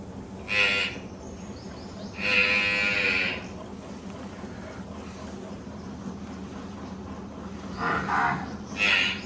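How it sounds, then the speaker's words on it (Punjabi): A buffalo that has just calved gives loud, drawn-out moos, one short and one longer near the start and two more near the end, over a steady rumbling farm background. "ਇਹ ਇੱਕ ਆਪਣੀ ਮੱਝ ਸੂਈ ਆ"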